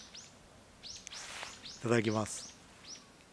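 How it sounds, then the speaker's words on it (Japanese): Small birds chirp outdoors in cold weather, short bright tweets repeating every half second or so, faint and somewhat distant, while someone speaks briefly nearby. "お、鳥も 鳴いてるぞ。"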